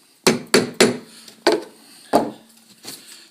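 Chisel chopping waste wood while carving a Windsor chair seat, five or six sharp mallet knocks at uneven intervals, close and crisp, with no talking.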